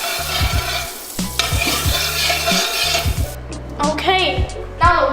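Butter sizzles in a hot wok, a steady crackling hiss with a few clanks and scrapes of utensils, while people talk over it close by.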